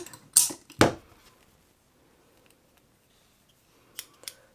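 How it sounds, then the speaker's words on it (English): Scissors snipping yarn during crochet, two sharp close cuts at the start, then near silence, then two fainter clicks at the end. "I'm gonna cut the yarn here."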